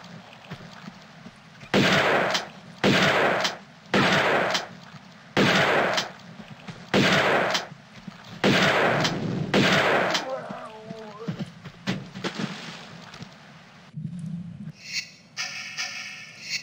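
Shotgun fire in the video game Tomb Raider 2: seven heavy, booming blasts spaced about a second apart, loud and close, followed by quieter in-game clatter and effects.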